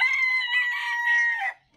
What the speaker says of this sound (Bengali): প্রথমেই দেখাচ্ছি সিল্কি মুরগিগুলো দেখাচ্ছি।